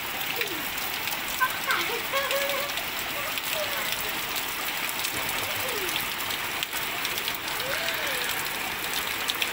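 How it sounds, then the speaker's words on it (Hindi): Heavy rain pours steadily onto a parked motorbike and bicycle outdoors, a dense continuous hiss throughout, with someone talking over it. "जबरदस्त बारिश पड़ रही है।"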